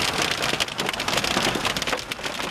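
Dense, loud rain drums steadily on a vehicle on a rough mountain road as the downpour turns to hail, a continuous hissing patter with no voices.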